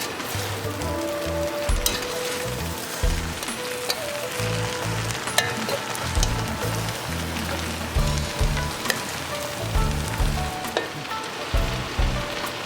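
Vegetable fried rice with bean sprouts and blanched broccoli is tossed in a hot pan, giving a steady sizzle broken by repeated rhythmic scraping and clattering strokes.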